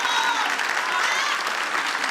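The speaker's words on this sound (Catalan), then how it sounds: "surten una gent que saben aplaudir d'aquesta manera" A crowd applauds together, a dense, even wash of many hands clapping at full strength throughout, with some voices blended into the noise.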